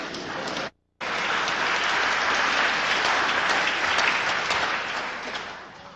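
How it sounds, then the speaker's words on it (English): Lecture audience applauding at a brain and music talk, a dense steady wash of clapping after a brief gap, holding loud and then tapering slightly at the end. "Applaud yourselves."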